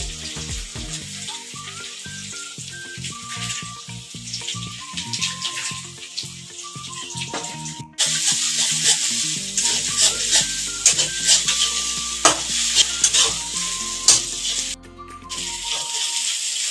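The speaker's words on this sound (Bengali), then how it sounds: "এবার ডিম অ্যাড করছে লাস্টে ফ্রাই হয়ে গেছে সব" Chowmein with added egg sizzling in a pan, with tonal music over the first half and then a loud, dense frying hiss joined by repeated clanks and scrapes of stirring, near and busy.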